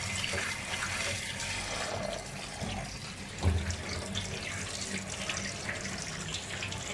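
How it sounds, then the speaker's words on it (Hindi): Mutton liver coated in garlic is rinsed under a running kitchen tap, a steady hiss of water with faint splashing and a brief bump of handling midway, no voices. "अभी मैंने जो कलेजी को लहसुन लगा के रखा था उसे मैं धोने लगी हूँ।"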